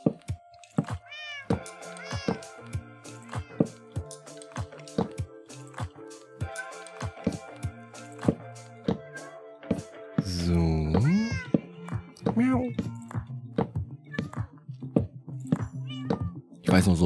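Cats meow repeatedly in the video game Minecraft, with short mews and rising calls scattered over a breeding setup, mixed with sharp thunks and a steady background hum, and a busier burst of overlapping meows near the middle.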